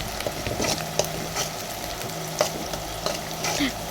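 Chopped onions and coriander leaves fry for raw mango chutney in a pan, a steady close sizzle broken by several sharp clicks and taps of a stirring spoon, with no talking.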